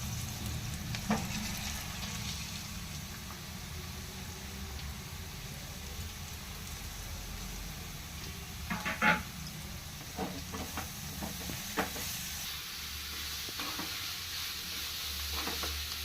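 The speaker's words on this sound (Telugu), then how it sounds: "ఇప్పుడు క్యారెట్ తురుము వేసేసుకుందాం." Grated carrot frying in a pan with turmeric, a steady sizzle with occasional stirring scrapes and clinks, close and continuous throughout.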